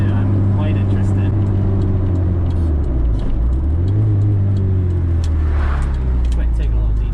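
Engine-swapped Honda Civic driving down a very bumpy back road, a steady loud low engine drone with a brief dip and rise as it shifts, people talking inside the car.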